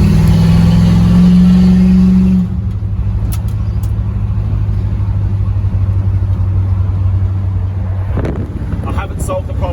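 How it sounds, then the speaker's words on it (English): Dodge Dart engine droning steadily on a test drive, a loud continuous low rumble with road and wind noise, a brief rev change near the start and a shift in tone toward the end. "Now that I've got it running, test drive it and see if anything else is broken."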